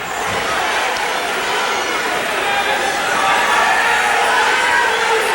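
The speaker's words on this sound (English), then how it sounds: "crowd's yelling for two" Crowd yelling and cheering in a gym at a high school wrestling match, a steady loud roar of many voices that holds for the whole stretch.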